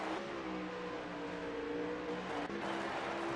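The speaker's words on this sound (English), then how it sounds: "Could have swore I heard a car" A race car engine drones and revs in a sim racing game at the Charlotte Roval, a steady whining hum with shifting pitch and a brief dip, heard fairly quietly.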